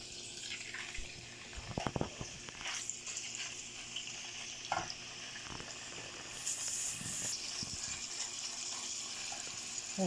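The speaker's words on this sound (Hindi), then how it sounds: "अब हम चिकन डाल देते हैं।" Chicken added to a pan of hot oil for fajitas, a close sizzling hiss with bursts of crackle and clattering handling sounds at the start, the frying rising again toward the end.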